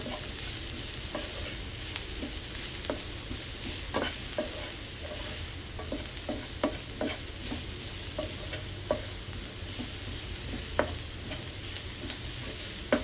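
Onions frying on low heat in a pan, a steady soft sizzle running throughout with frequent light scrapes and clicks of stirring, close and alone without talk.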